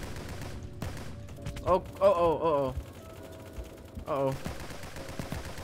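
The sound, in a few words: gunfire in a shooter video game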